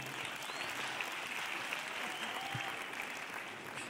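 Applause from a crowd at a live comedy show, a dense continuous roar of clapping at a distance, steady throughout with no break.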